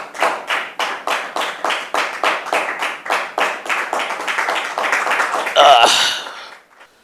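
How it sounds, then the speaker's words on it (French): An audience applauds to welcome the first visitor of 2023, loud, steady rhythmic clapping in unison that swells near the end and then fades out. "Sous vos applaudissements,"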